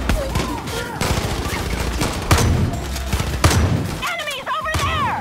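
Gunfire in Far Cry New Dawn, rapid close-range shots in bursts with loud thumps, while someone talks over the action.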